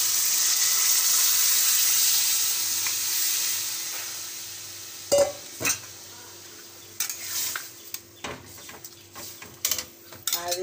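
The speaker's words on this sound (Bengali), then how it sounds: "এইবার ছোলার ডালটা ঢেলে দিলাম" Dry chana dal is poured into a cooking pot in a home kitchen, giving a few sharp rattling clatters and scrapes after a stretch of steady low hiss, close and fairly loud, with no talk.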